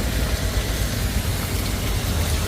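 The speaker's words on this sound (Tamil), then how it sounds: "எதிர்பார்க்காத மழை" Steady rain falls in Jaffna, a dense even wash of drops on surfaces that runs unbroken throughout with no voices.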